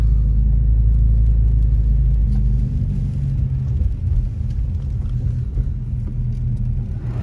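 A car engine hums with steady low rumble, loud and close, as the vehicle creeps slowly along a snowy neighborhood road near lake level in Big Bear Lake, California, easing off after a heavier first stretch.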